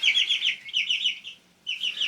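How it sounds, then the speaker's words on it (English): Clucking calls from a cockerel with mixed-colour plumage on a homestead, a run of close, clear chirping clucks followed by a short pause and another burst. "I think this one's a cockerel as well."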